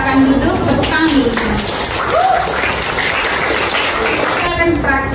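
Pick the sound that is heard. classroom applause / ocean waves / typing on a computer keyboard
classroom applause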